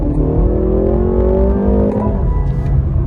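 A BMW car engine roars under full throttle, its pitch climbing steadily as it accelerates hard, loud and close throughout.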